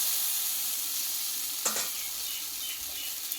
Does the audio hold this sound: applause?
no